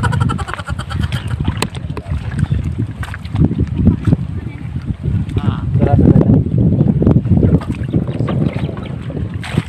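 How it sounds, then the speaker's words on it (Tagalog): Strong wind buffets the microphone on a ship in choppy conditions, a steady gusty rush with water and boat noise beneath it and people talking over it. "Kasi mahangin ngayon."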